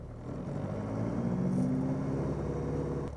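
A Piper PA-28-151 Warrior's piston engine runs up to 2000 RPM, a steady, loud, close droning rumble with a low throbbing tone that swells slightly and holds without pause, no voices over it.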